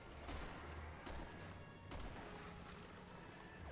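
Gunfire in the shooter Resident Evil 6, with a few sharp distant shots and thuds over a dense, noisy game soundscape, fairly faint overall.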